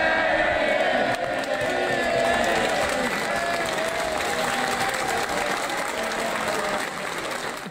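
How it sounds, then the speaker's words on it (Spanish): A crowded House of Commons chamber erupts in sustained applause and cheering after a speech, a dense, loud wash of clapping and shouting voices holding steady throughout. "Tiene gente que lo aplauda."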